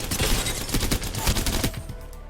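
Rapid bursts of automatic gunfire at a firing range in a video game, a quick string of sharp shots fired back to back, close and loud.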